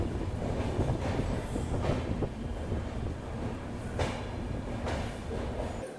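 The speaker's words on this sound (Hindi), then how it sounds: "बिल्कुल ऑन टाइम ट्रेन का अराइवल हो रहा है" Lucknow–Kathgodam Express pulling into Kathgodam station, a steady low rumble of rolling rail cars with clattering wheels and occasional brief squeals, close and continuous throughout.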